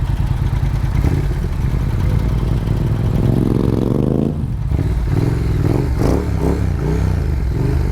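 Triumph Thruxton R motorcycle engine at a drag race revs hard and close, its pitch climbing steadily, then dropping at a shift and climbing again under a clattering mechanical roar.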